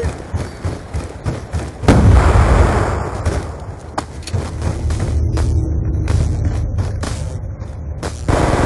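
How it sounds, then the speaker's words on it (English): A grenade explodes in a video game with a heavy, booming blast and a long rumble, while sharp scattered gunshots and clicks continue around it. "Grenade!"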